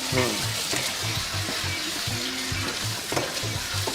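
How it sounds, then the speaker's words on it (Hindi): Small chicken pieces frying lightly in hot oil in a kadai, a busy sizzle mixed with rhythmic scraping and stirring knocks and a watery hiss, close by, with faint voices underneath. "तेल गरम है, अब इसको हम डालेंगे, थोड़ा हल्का फ्राई करेंगे।"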